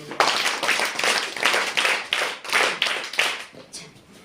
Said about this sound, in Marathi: तिच्यासाठी आपण टाळ्या देऊया